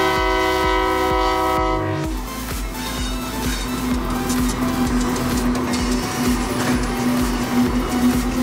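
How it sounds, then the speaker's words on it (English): An oil train's horn blares loudly for a couple of seconds, then the heavy train rumbles past with rhythmic clacking of wheels on the rails, close and loud. "Oil train."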